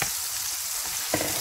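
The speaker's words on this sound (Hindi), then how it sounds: "अभी हम मसाले को थोड़ी ज़्यादा थोड़ी देर के लिए भून लेंगे" Spices and crushed chili frying in a pan for saag, a brief close sizzle with a soft scrape of stirring near the end.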